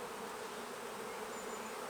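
Honey bees buzz on a hive frame, a dense, continuous swarm hum that is steady and close, with no talk.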